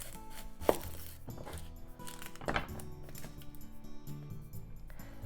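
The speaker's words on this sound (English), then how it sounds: "So onion. Cut the top and the bottom off." Kitchen knife chops through the top and bottom of an onion on a board, giving two distinct sharp thuds about two seconds apart, then faint small taps and handling noise, close and quiet.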